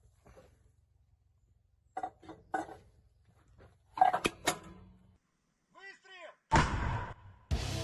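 MT-12 Rapira anti-tank gun firing at a target on the front line near South Donetsk, a few sharp loud cracks and blasts with echoing decay, separated by quiet gaps and brief voices.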